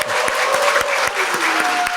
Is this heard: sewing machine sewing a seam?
no